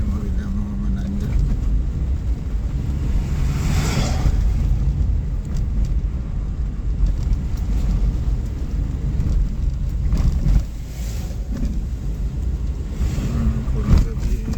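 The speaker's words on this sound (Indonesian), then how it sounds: "Ini mobil yang mau menanjak." Car straining up a long steep mountain road on the Enrekang–Lambakdoko–Cakke route in Sulawesi, a steady low engine drone mixed with wind buffeting and road rumble throughout, and voices faintly present.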